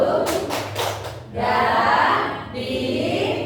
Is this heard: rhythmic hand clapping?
yes